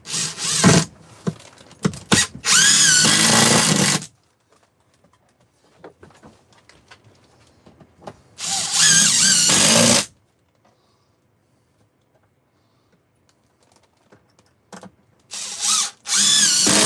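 A battery drill drives screws in loud, sustained whirring bursts. Two long runs stand out, one early and one midway, with a couple of shorter bursts at the end, separated by quiet handling noises and clicks.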